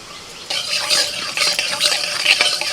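Nigella seeds and asafoetida for a tempering crackle and sizzle in hot oil, bursting in suddenly, then a close, uneven spitting with faint clinks of a utensil.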